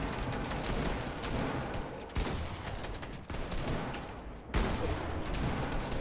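Gunfire in a video game during a competitive solo match comes as a dense, sustained barrage of rapid shots with brief breaks between bursts, loud and close.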